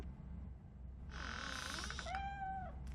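A cat meows in the video game RoboCop: Rogue City, with a single drawn-out, wavering mew rising over a low steady game hum. It comes fairly close and clear, with no talking over it.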